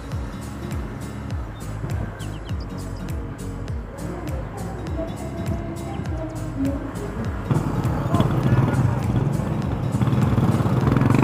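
Honda Click 125i V2 2020 scooter-style motorcycle being ridden, its engine droning steadily with rising pitch as it accelerates, growing louder toward the end with wind and road noise.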